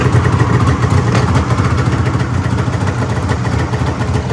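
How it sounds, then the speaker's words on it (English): A loud engine with an exhaust leak idles with a rough, rapid ticking and puffing from the exhaust, running steadily throughout without any voices. "A little bit of exhaust leak right there"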